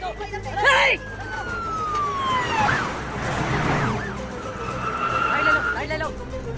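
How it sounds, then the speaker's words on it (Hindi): A police car siren wails in a film scene, its tone rising and sweeping as the vehicle approaches, loud over a busy background with voices talking. "पुलिस की गाड़ी आ रही है, जल्दी।"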